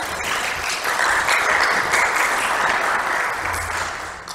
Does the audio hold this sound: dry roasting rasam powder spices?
no